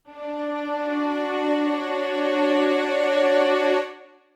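A Session Strings software string ensemble plays a sustained chord with legato switched off, a smooth rich harmonic tone holding steadily for about four seconds before releasing cleanly.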